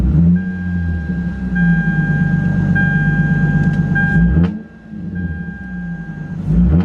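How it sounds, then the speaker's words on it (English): A Lexus IS350 engine runs after a coil pack reinstall, a loud steady idle with a close low drone, a brief dip midway, then the hum returns at full level. "I'm about to put this cool pack back in and start her up and see how she runs"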